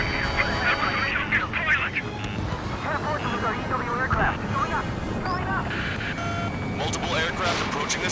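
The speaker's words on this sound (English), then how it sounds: "Multiple aircraft approaching this airspace." Military jet aircraft in the video game Ace Combat 7 roar steadily throughout, with game radio voices and tones layered over the engine noise.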